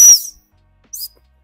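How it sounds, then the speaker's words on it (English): Two sharp, loud whistle blasts from a gundog stop whistle during retrieve training outdoors, a longer first blast and a shorter second after a brief silence. "Right, I'm gonna do a stop whistle."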